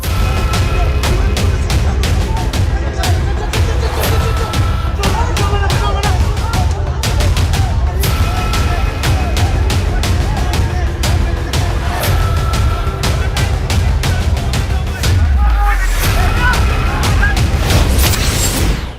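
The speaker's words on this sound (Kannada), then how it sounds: "ಬೂತ್ ಮೇಲೆ ಬಾಂಬ್" Bomb blasts at a polling booth during violent election clashes in Bengal: loud, dense booms and sharp gunfire-like cracks follow one another without pause for the whole stretch.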